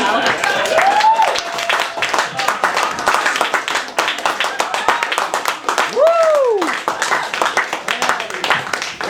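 A small open-mic audience claps in scattered bursts of hand clapping, irregular and fairly close, while people talk over and between the claps.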